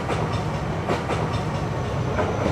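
Train station ambience from a surround sound library: a dense, steady wash of rail noise with faint clickety-clack and a busy background rumble, continuous and fairly loud throughout.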